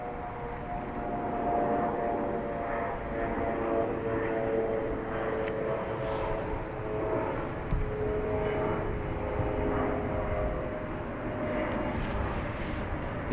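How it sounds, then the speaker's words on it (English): Oversized engines on an Embraer E2 jet airliner at Dublin Airport produce a steady, fairly close roar with a sustained humming drone that holds level throughout, with no talking. "Oversized engines on the E2 Embraer."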